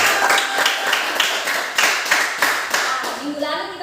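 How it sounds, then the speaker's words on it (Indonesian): A classroom of students claps together in a rhythmic patterned clap, sharp repeated hand strikes in a quick beat, with children's voices rising briefly at the end. "tepuk."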